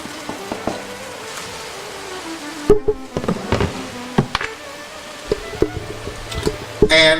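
Mushrooms go into a pan of melted margarine and crackle and pop steadily, with scattered sharper spits over a low sizzle.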